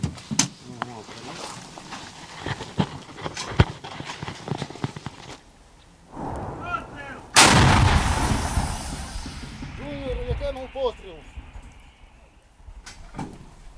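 An artillery gun crew firing from a vehicle-mounted position after getting target coordinates: a sudden heavy boom with a long rolling tail follows scattered clatter and movement, and someone narrates over parts of it.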